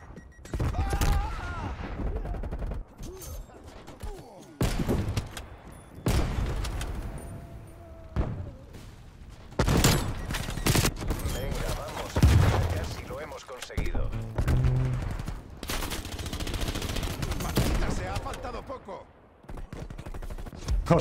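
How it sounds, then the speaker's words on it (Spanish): Call of Duty Cold War gameplay bursts with repeated explosions and rapid gunfire in sharp, loud volleys and booms separated by brief lulls, with a player's voice heard talking among them. "Las explosiones, tío. Literalmente me tiembla toda la situación."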